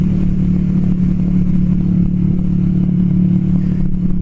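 A Kawasaki Vulcan S 650 Cafe ABS motorcycle exhaust gives a steady, loud, close-up low rumble, holding an even drone throughout with faint mechanical clatter on top.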